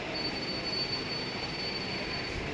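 A metro train at a railway station, a steady loud rumble of rolling wheels with a thin high squeal running over it, close and continuous, with no voices.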